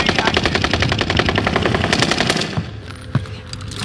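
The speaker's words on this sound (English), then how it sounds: "We're getting shot at by the back." Rapid automatic gunfire in Warzone Pacific on the Caldera map rattles loud and close in a sustained burst for about two and a half seconds, then cuts off, followed by one sharp isolated shot.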